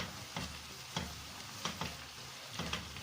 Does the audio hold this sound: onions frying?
yes